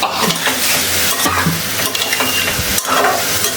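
Pumpkin sautéing with turmeric, ground coriander, salt and chili powder in a hot pan, a loud continuous sizzle with busy close spatula scraping and stirring throughout.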